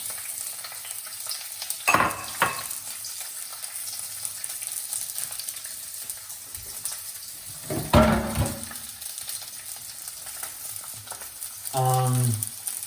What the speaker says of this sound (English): you let them cook, you let them heat up while you mix them up a bit